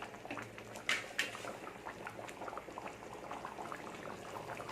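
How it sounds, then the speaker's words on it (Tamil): Dried fish and cassava curry bubbles in a village-style pot, a quiet, close, continuous simmer of soft pops and gurgles with two brief sharper clicks near the start, and no voices. "குழம்பு நல்லா கொதிச்சிருச்சு கருவாடை வெந்துருச்சு"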